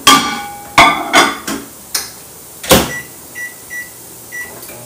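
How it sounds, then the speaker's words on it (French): A kitchen microwave oven is worked while salted water is heated, with several sharp clunks and taps of the door and buttons followed by short electronic beeps, with no talking. "Donc, je mets ça au micro-ondes rapidement."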